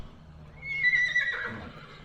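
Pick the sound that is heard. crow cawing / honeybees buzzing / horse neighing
horse neighing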